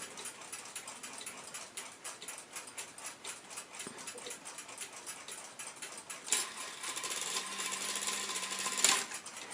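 A Hubert Herr cuckoo quail clock's mechanism runs through its quail cycle with rapid ticking and whirring gears, then a louder grinding, ratcheting run near the end, close and fairly quiet, with no voices.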